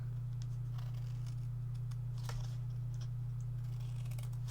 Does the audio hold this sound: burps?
no